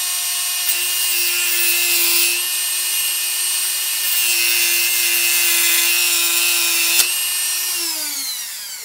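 A power tool with a steady high whine grinds through a small screw while throwing sparks, loud and close, with a brief sharp tick near the end before the motor winds down.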